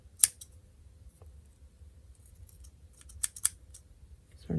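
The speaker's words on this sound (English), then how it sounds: "These are not my good scissors" Scissors snip through ribbon for a craft bow in a quiet room, a couple of sharp, close cuts spaced a few seconds apart with faint handling rustles between.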